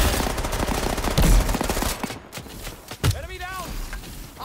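Gunfire in the video game Off The Grid, a burst of rapid shots with loud, sharp onsets over busy game sound and a talking player.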